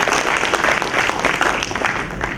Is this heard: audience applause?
yes